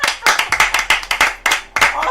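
Bare hands clapping indoors: roughly ten sharp, loud claps in a quick, slightly uneven rhythm, close to the microphone.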